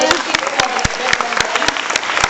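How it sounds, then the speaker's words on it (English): A small audience at a bird show claps enthusiastically, sharp hand claps in quick irregular rhythm for a couple of seconds. "Give her a clap for it then, everyone."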